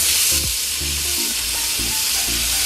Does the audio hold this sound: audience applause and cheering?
no